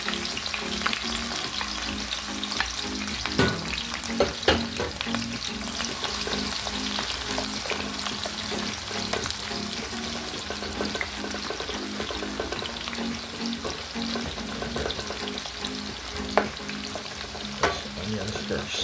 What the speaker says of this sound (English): Put the onions and saute a little bit.